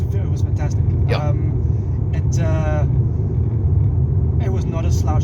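Mercedes-Benz C220 diesel car accelerating hard to overtake, a steady loud engine and road rumble filling the cabin while people talk over it.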